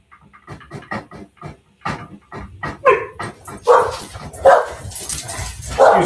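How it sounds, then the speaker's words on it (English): Several dogs bark indoors near a kitchen, starting with a run of sharp, evenly spaced barks and building into louder overlapping yips and whimpers, close by and loud. "Excuse the dogs."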